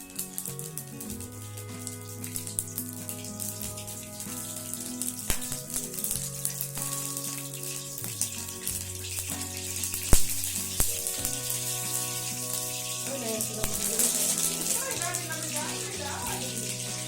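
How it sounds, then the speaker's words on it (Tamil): Mustard seeds sizzle and fry in hot oil in a kadai, a continuous crackling hiss with scattered pops, close and fairly loud, while someone talks over it. "எண்ணெய் காஞ்சதும் கடுகு சேர்த்துக்கலாம்."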